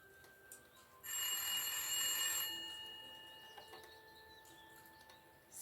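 A telephone bell rings with a bright, sustained electronic trill for about a second and a half, then fades into a quiet room with faint clicks and a lingering tone.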